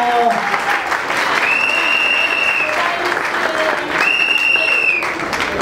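Guests at a customary wedding ceremony clap loudly and continuously, with whistles or shrill cheers rising above the applause at two points.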